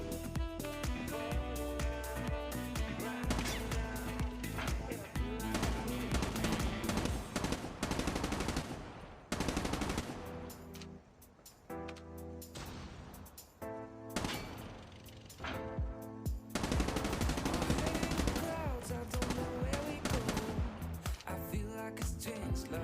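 The HVK-30 assault rifle in COD Mobile fires rapid automatic bursts, broken by short pauses, over a dense, loud layer of game music.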